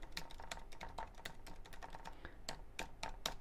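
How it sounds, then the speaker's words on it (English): A website address typed on a computer keyboard, a quick run of light, irregular key clicks, close and quiet, with no talking. "So let me type that up for you."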